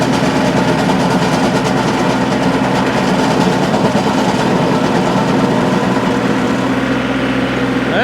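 Stump grinder fitted with four new teeth chewing into a stump, a loud continuous heavy engine roar with steady grinding noise throughout, close and unbroken.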